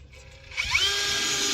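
A power drill spins up and bites into a panel while holes are drilled to mount a portable hot water heater, starting quietly, then rising to a loud, steady whine for the second half.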